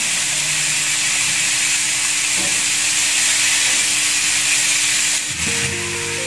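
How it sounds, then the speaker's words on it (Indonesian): Beef satay meat stir-fried in a nonstick pan gives a steady, close hiss of sizzling that runs the whole time, with a low hum underneath and a brief change in tone near the end. "Tinggal dioseng-oseng sampai daging dan bumbunya ini matang ya."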